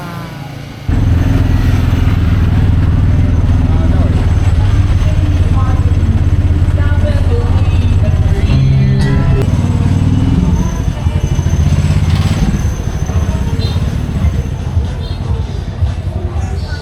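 A motorcycle tricycle engine idles and rumbles steadily close by on a roadside in Siargao, loud and continuous after a brief quiet start, with people talking over it.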